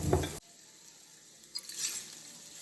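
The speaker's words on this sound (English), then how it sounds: "We want to just saute those around in here." Vegetables for a chicken and corn chowder hit a hot pot and are sautéed, with a loud rustling burst at first, then a soft steady sizzle and a few scraping stirs.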